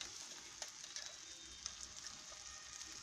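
Ingredients sautéing in a pan, a faint steady sizzle with a few small stirring clicks, soft and close with no voices.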